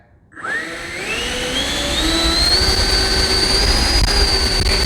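An FMS Dassault Rafale RC jet with an 80mm electric ducted fan and thrust tubes spools up from silence into a loud, rising whine that climbs steadily in pitch and holds as a sustained roar, close by.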